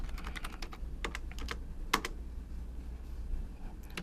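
Computer keyboard typing during data entry into an ERP HR system, with scattered bursts of crisp key clicks and a sharper tap midway, irregular in rhythm, close and quiet over a low hum, with no speech.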